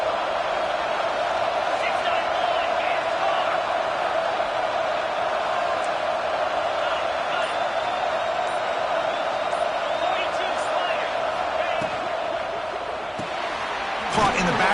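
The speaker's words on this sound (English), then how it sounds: "This crowd is trying to inspire this defense to make a big red zone stop." A College Football 26 stadium crowd roars as a steady, loud wall of noise that holds for the whole stretch and dips slightly near the end.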